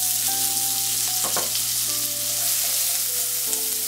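Chopped onion frying in oil with sputtering cumin seeds and bay leaf, a steady broadband sizzle with a brief stir or clatter near the middle, loud and continuous with no talking.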